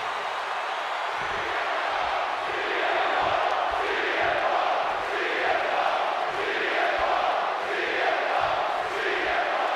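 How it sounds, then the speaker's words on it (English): A capacity wrestling crowd at Survivor Series 2023 roars and cheers loudly and continuously, a dense wall of arena noise with rolling swells and chant-like pulses. "And this capacity crowd just exploded."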